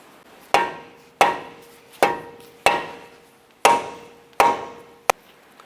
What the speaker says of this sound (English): then we're going to use our dead blow hammer to hit this here to try and break